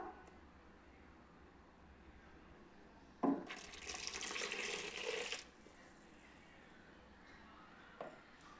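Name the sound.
water being poured into fish curry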